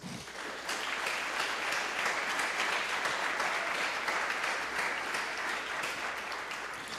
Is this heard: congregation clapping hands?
yes